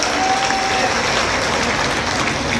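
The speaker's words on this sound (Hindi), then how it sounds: "एक बार जोरदार तालियां बजाकर अभय सिंह निर्भीक को स्नेह" An audience at a Hindi poetry stage event in Ambedkar Nagar applauds poet Abhay Singh Nirbhik, a loud, steady burst of clapping from a large crowd, with a faint voice briefly beneath.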